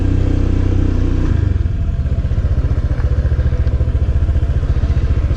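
A Honda PCX scooter engine runs steadily close by as a beginner rider moves off, with a dense low rumble and a faint, even pulse that settles after a brief change partway through.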